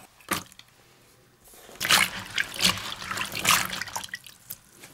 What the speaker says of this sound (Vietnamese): Sau đó rồi mình cho hết đậu vào rửa ha.